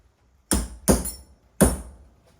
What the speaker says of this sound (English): hit with the hammer